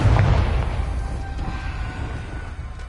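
A Confringo blasting spell detonates in Hogwarts Legacy, a loud booming explosion at the start that rolls off into a long rumbling decay with no voices.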